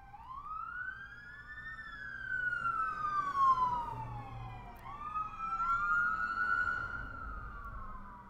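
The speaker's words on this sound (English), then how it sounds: "Sounds like an ambulance." A wailing ambulance siren sweeps up and down, loud and steady, as it passes close by outside.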